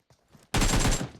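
A sudden loud burst of rapid gunfire erupts in a battle royale video game after a short, near-quiet lead-in. It lasts about half a second before fading.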